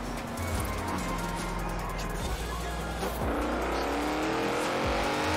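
Mercedes-AMG GT 63 S in Forza Horizon 4, its engine and exhaust droning loudly and steadily, revs rising and falling through the run with popping exhaust burble, someone briefly talking over it.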